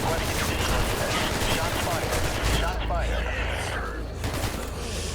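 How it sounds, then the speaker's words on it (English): Rapid gunfire from the video game Hatred, a dense burst of shots and rattling fire at the front of the mix over continuous game noise, with a voice speaking over it. "Shots fired, indeed."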